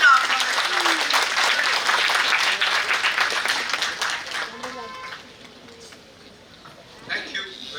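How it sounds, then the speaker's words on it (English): An audience applauds to welcome a lecturer at a memorial lecture, the dense clapping loud and steady for several seconds before thinning out, with a voice and a few scattered claps near the end. "So please welcome Dr. Mathur with a warm round of applause"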